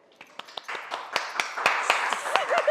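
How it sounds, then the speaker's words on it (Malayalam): An audience at a stage show claps, starting with a few scattered claps that build into denser applause, with faint voices underneath. "കയ്യടി വേണ്ട."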